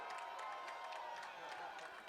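A stadium crowd at a high school football game, Derby at Salina South, applauds a cameraman's stop after a punt. The clapping is faint and distant and runs steadily under an announcer's voice.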